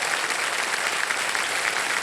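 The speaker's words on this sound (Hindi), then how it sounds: "ताली वाली बजती है, लोग चीखते हैं, चिल्लाते हैं" Studio audience applauding on a TV game show, a dense, steady roar of clapping that stays loud and even throughout, with no voices over it.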